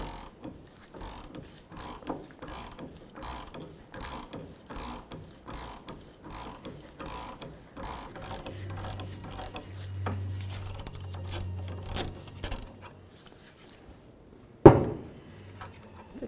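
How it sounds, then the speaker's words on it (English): A half-inch breaker bar works at a corroded, pre-sprayed sway bar link nut on a Jeep Cherokee, giving repeated ratcheting clicks and scraping creaks, then a sharp crack as the nut breaks free near the end. "I'm going to use a nice 1/2-inch breaker bar."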